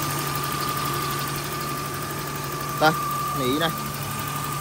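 A 1995 BMW 320i engine idles with a steady, even hum that runs throughout, while someone speaks briefly over it.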